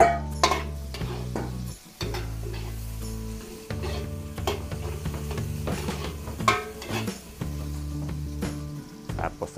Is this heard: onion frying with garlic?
yes